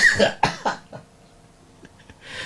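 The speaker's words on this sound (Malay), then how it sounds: "batuk datang balik pula" A person coughs several times in quick succession, harsh and close, then falls quiet with faint breathing before another rough exhale.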